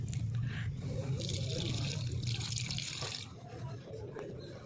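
Water is poured steadily onto a bael tree during a Monday morning worship routine, a continuous close splashing and trickling that tapers off toward the end, with faint background voices.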